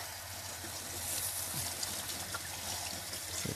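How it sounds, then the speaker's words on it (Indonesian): Cut vegetables are rinsed under running tap water, a soft continuous trickle and splash at low level with small shifts as the pieces move under the stream. "Cuci pakai air mengalir"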